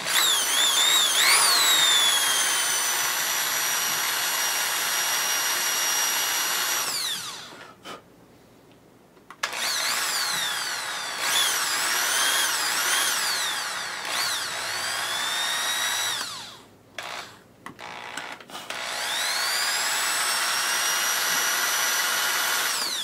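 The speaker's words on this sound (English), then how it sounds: "Now you only want to drill halfway through this." A power drill bores halfway into a plastic Merr-Sonn Power 5 blaster kit part, whining loud and close in long bursts that rise and fall in pitch, with two short pauses where the motor stops.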